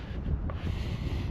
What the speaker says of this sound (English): Can you hear the wind now?